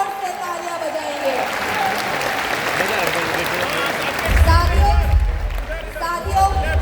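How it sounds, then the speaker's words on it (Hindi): Crowd at a women's empowerment seminar claps steadily and loudly throughout, with a low rumble and cheering swelling near the end. "एक बार जोर से तालियां बजाएंगे।"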